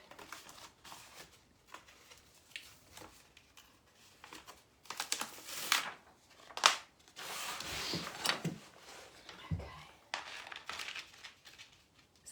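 Tape pulled and pressed by hand onto a Victorian set of drawers, giving faint, close rustling and tearing with scattered soft taps and rubs, fairly quiet throughout.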